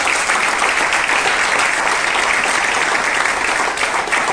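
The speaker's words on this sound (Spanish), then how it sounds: "Denle fuerte aplauso." A church congregation gives a loud, steady round of applause, dense continuous clapping filling the room without a break.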